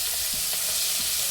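Tengra fish frying in mustard oil in a hot kadai, a steady loud sizzle broken by a few soft scraping stirs, with no voices.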